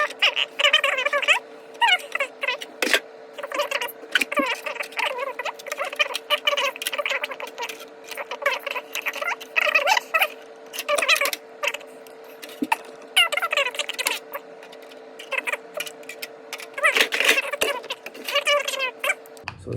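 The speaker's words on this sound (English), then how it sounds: "So I'm gonna try cutting the wheel wells with the scissors." Scissors cut through the thin plastic wheel wells of an RC car body, giving irregular bursts of crisp snipping and crinkling close up, with short pauses between cuts and a steady faint hum underneath.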